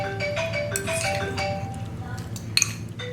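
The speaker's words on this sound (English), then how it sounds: "I'm just gonna mix it up." Pineapple and pico de gallo are stirred together in a bowl, with a steady run of light utensil clinks and scrapes against the dish and a sharper clink near the end.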